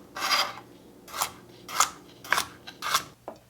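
Knife cutting carrots into thick slices on a board, six separate crisp slicing strokes spaced roughly half a second apart, close and clear with no talk.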